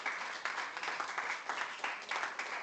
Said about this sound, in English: So give John a round of applause.